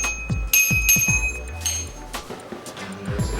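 Bell on a folding 20-inch fat tire e-bike rings in a few bright, short dings over handling clatter and low thumps, fairly close.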